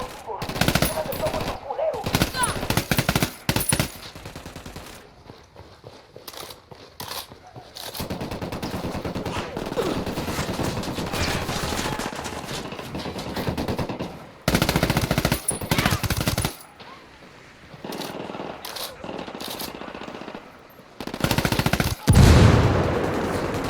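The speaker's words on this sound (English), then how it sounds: "Opening fire." Sustained automatic gunfire in a tactical shooter firefight in Ghost Recon Wildlands, with loud rapid bursts and volleys that come and go over about twenty seconds, broken by short lulls.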